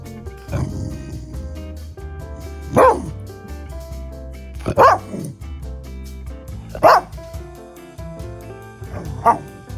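A dog barks four times at roughly two-second intervals, each bark loud and close, over a steady tonal music bed.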